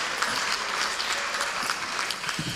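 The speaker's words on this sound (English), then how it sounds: "They definitely deserve a round of applause." Audience at a fall high school athletic banquet gives the kids a round of applause, dense continuous clapping from a room full of people, steady and moderately loud.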